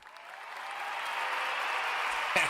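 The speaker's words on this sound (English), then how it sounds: "Gotta give her a round of applause when she enter" Applause greets a guest joining a live embroidery stream, a steady wash of clapping that swells slightly and holds for a couple of seconds, fairly soft and distant.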